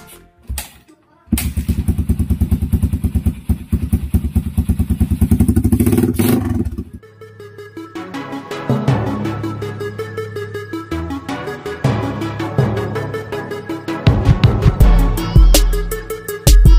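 Motorcycle fitted with a Leo Vince muffler, idling with a fast, loud exhaust putter, then a pause, some clatter and revving bursts close by, with brief voices in the background.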